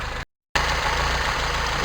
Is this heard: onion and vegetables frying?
no